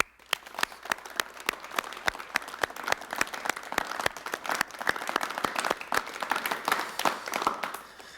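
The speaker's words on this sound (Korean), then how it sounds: "지으신 분을 위해서 박수 좀 쳐." Applause from a studio audience at a 1988 KBS broadcast talk show, with distinct individual claps standing out over a softer background of clapping, moderately loud and steady for several seconds.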